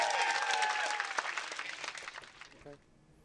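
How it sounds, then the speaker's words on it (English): A studio audience claps for a comedian on a talk show. The applause is loud at first and dies away into scattered claps before stopping. "Give him a big round of applause."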